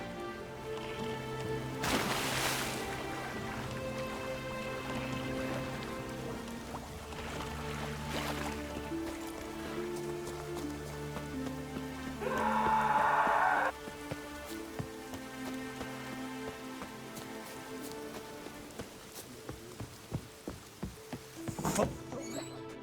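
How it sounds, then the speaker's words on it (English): Soft patter of rain in The Witcher 3 over layered ambient music, with a brief brighter burst midway and a few sharp clicks near the end. "Take a soothsayer to know when it's raining."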